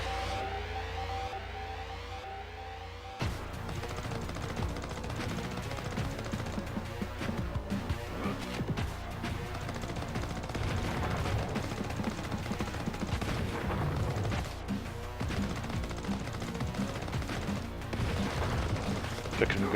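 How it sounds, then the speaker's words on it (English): Gunfire and grenade blasts during a boss fight in the Mega Drive shooter Xeno Crisis, loud, continuous rapid shooting with repeated bursts and explosions, following a brief stretch of quieter game tones at the start. "Flicking grenades at him."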